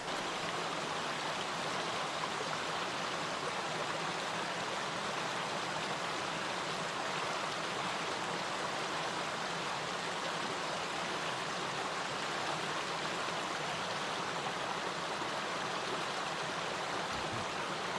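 A steady, continuous rush of flowing water from Wyming Brook in the Peak District, close and even throughout, with no voices.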